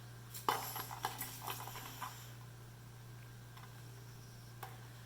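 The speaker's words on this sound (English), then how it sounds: "I'm going to add 1 onion roughly chopped directly to the Instant Pot" Roughly chopped onion tumbles into an Instant Pot for a black-eyed peas curry, a short burst of clattering and tapping against the metal insert, then a few faint taps over a steady low hum.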